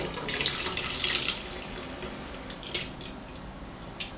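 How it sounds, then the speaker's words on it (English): A tomato mixture with water is poured into a rice cooker, giving a quiet, close liquid pour with a few soft splashes and drips. "Pour the tomato mixture into the rice cooker."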